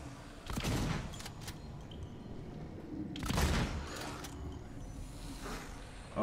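Shotgun fire in the survival horror game Alien: Isolation, two heavy booming blasts a few seconds apart with rattling mechanical clatter, followed by a low rumbling ambience.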